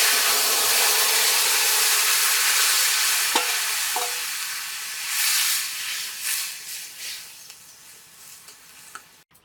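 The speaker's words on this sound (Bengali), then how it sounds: "এখন তরকারিটা ঢেলে দেবো।" Curry poured into a hot pan of fried garlic and a dried red chilli tempering, for a koi fish and pumpkin-stalk dish, erupts into a loud, close sizzle that swells midway and then slowly dies down to a softer hiss.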